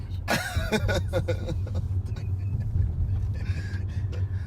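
Car driving on a road in South Memphis, a steady low engine and road rumble heard from inside the car, with people talking briefly over it.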